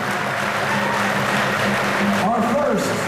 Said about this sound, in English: Let's have a big round of applause for Hall of Famer himself